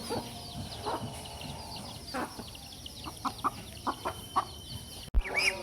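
Backyard hen fed fresh paddy grain clucks in short, separate bursts along with other barnyard birds. Rustling and farmyard clatter fill the background, and a sharp knock comes near the end.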